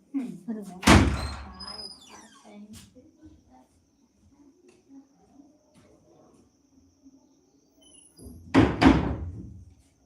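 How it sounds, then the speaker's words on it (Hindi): A door is shut in a village home, with two sharp thuds, one near the start and one near the end, and quieter sounds and a voice between them. "दरवाजा बंद करो ना, कुत्ता जाएगा उधर।"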